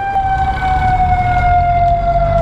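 An emergency vehicle siren wails in a long, steady, slowly falling tone, close and loud, over road traffic rumble as it passes on a road behind a motorcycle rider.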